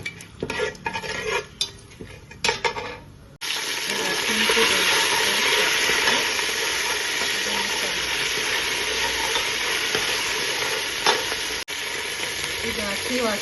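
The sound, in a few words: whole spices sizzling and stirred in hot ghee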